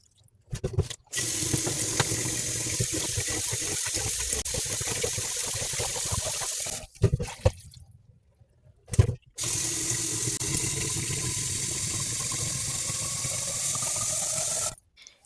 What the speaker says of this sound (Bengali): বারবার চেঞ্জ করে করে এভাবে চালটাকে পরিষ্কার করে নিব।